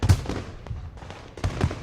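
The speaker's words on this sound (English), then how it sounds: "lights the sky high above the school with another loud boom. Fireworks!" Fireworks booming above a school at night in the visual novel Katawa Shoujo: a few muffled, distant thumps with crackling tails, fairly faint and heard alone.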